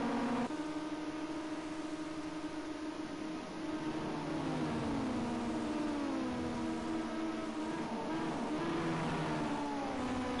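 Ginetta Junior race cars lapping Bathurst, their engines holding a loud, steady drone with shifting harmonic tones as several cars run close together, rising and falling in pitch without pause.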